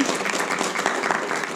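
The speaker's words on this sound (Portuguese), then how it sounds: "Dá um salve de palmas ao Senhor" A church congregation claps loudly for the Lord, a close, dense burst of steady applause filling the room with a few voices mixed in.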